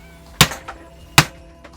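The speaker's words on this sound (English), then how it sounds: "I'm going to put this into my clamp, into my workmate, and then just start hammering it." Two sharp metallic hammer blows driving an axle into a Federal V3 bicycle freecoaster hub held in a workbench clamp, each strike ringing briefly, evenly spaced, with a fainter tap after each.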